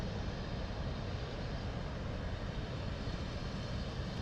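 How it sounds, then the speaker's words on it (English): An Airbus A319 airliner approaches to land at London Luton Airport, heard as a steady, broad engine roar that stays constant and fairly distant, with no talk. "just trying to get eyes on this Airbus A319 that's coming in"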